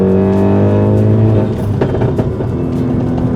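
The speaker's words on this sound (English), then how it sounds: "the freaking exhaust is so loud" A big-turbo Ford Focus ST's loud exhaust drones close by at a steady engine note, then crackles and pops as the revs shift, loud and alone.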